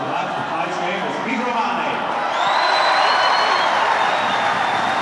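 Rugby crowd at a Munster vs Cardiff Blues match applauding and cheering in a stadium, a sustained broad roar that swells around midway, with a commentator talking over it.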